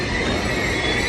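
An ICE express train rolls in alongside a German station platform, a steady close rumble of wheels and carriages filling the whole moment without a break.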